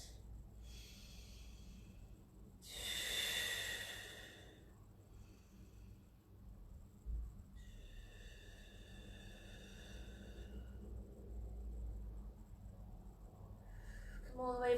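A deep, forceful breath during a Pilates stretch, with one strong breathy exhale standing out near the start and softer airy breathing after, close and fairly quiet over a low background hum.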